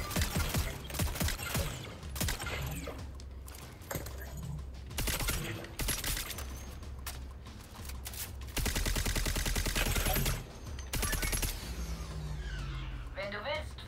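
Small pistol fire in the PS5 shooter Concord: sharp rapid shots and other game effects pop throughout, mixed under steady German-speaking commentary and some clicking.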